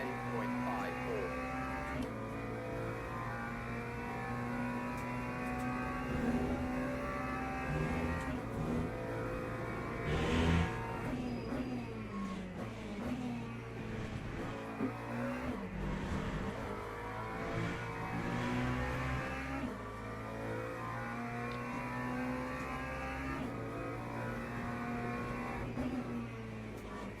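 A race car engine in the sim racing game Le Mans Ultimate drones steadily, its pitch rising and falling through gear changes and corners as a driver talks over it.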